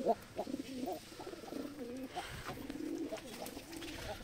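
Domestic pigeons coo in a loft, soft repeated throaty coos rolling one after another at close range over faint background noise.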